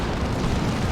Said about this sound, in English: the Baneblade fires back with a vengeance